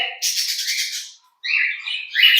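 Pet rainbow lorikeets kept for breeding give two bursts of loud, harsh squawking calls close by, separated by a short silence, with no talk.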